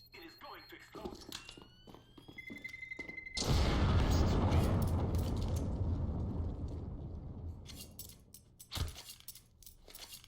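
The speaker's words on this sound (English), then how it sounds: "Get ready. It is going to explode." A bomb goes off in a CS:GO Major League match between SK Gaming and FaZe Clan: a sudden loud, broad explosion roars in and slowly decays over several seconds, amid game clicks and beeps before it.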